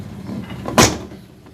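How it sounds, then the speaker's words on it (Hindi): A pressure cooker lid is closed, one short, sharp clack standing out over a low kitchen background. "अब मैं प्रेशर का ढक्कन बंद कर दूंगी,"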